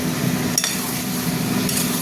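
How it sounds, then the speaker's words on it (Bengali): Cauliflower goes into a pan of fried spices for a vegetable curry and gets stirred, giving a steady sizzle with scraping stirs and a couple of sharp clinks of utensil on pan. "এবার কপিটা দিয়ে দিচ্ছি, ফুলকপিটা একটু নেড়ে দিই"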